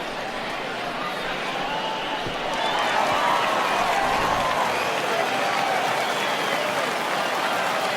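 The home crowd of a baseball game cheers in MLB The Show 20 (spring training, Angels vs. Rockies), a steady broadband roar that swells louder after a couple of seconds and carries on without a break.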